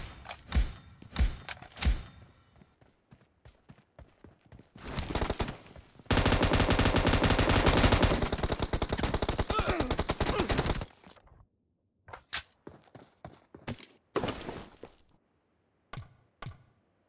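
Rapid bursts of automatic gunfire from the battle royale shooter PUBG in a team deathmatch, with scattered single shots and short volleys, then a long, dense sustained burst of fire, followed by more sporadic loud shots.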